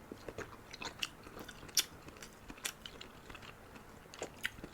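Close-up mukbang chewing of fish roe, with soft wet crunches and bites at an irregular rhythm, quiet and near with no talking.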